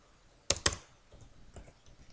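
Two sharp, close keystrokes on a computer keyboard, followed by a few fainter taps, in a quiet room with no talking.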